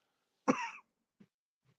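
A single short, sharp cough in a quiet room, followed by a couple of faint small sounds.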